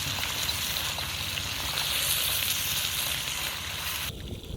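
Crabs cooking in a pan at an overnight camp for chili crab. A loud, steady sizzle and crackle of frying runs close and constant, then drops away abruptly near the end.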